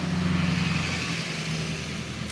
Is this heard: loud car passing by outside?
yes